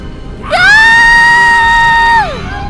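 A girl in a Thai horror cartoon lets out a single loud, sustained, high-pitched scream lasting nearly two seconds, close and alone, that bends upward at the start and falls away at the end.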